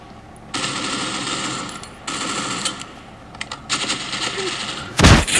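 AK rifle fire in the Critical Ops mobile shooter, several sustained automatic bursts separated by short pauses, loud and close, ending in a sharp louder blast.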